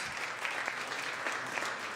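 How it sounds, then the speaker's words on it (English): Legislators and onlookers on a state senate floor give a warm round of applause, a thick, sustained clatter of many hands that stays level for the whole moment. "And a warm applause to people fighting a very insidious disease."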